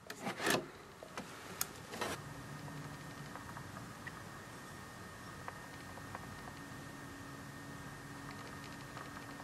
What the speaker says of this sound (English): Let's get the body off to take a closer look under the body.